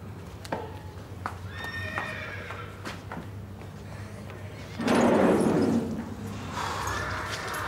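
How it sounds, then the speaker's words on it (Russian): A horse whinnies several times in a drama scene, its calls rising over a steady low hum, with a louder burst of movement or scuffling near the end. "А конь твой, значит, должен воздух есть."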